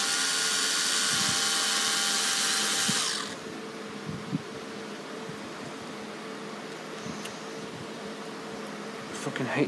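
A power drill drives screws, a loud steady whine for about three seconds that cuts off, then only quiet room noise with faint handling knocks.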